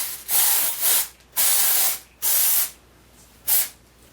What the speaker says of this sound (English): I'm going to take the Tresemme Texture Styles Divine Definition Spray, and I'm just going to spray this through the ends of my hair